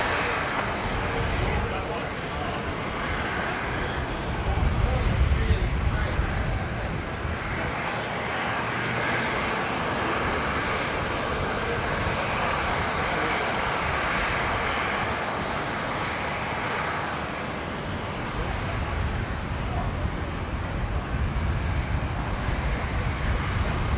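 A jet aircraft rumbles steadily as it comes in to land on runway 19 right at Brisbane Airport, a broad continuous engine roar swelling slightly midway, with radio voices and nearby talk running over it throughout.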